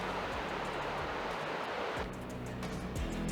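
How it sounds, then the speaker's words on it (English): Constant rushing water of a river flowing nearby in a gorge beside railroad tracks, a broad steady roar with no breaks and no voices. "You can hear that river."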